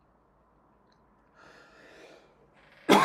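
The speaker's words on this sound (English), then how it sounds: "Sorry for the cough there," A single sharp, loud cough bursts out near the end from someone recording outdoors at sunset with a drone, preceded by quieter breathy noise.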